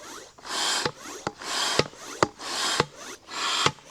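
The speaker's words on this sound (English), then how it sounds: "So it comes with this manual air pump." A manual hand pump inflates a large Zonkoo Draco inflatable tent, each stroke a loud, close whoosh of rushing air ending in a sharp click, repeating in a steady rhythm about every half second.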